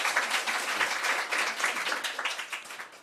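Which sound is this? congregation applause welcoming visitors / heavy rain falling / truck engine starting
congregation applause welcoming visitors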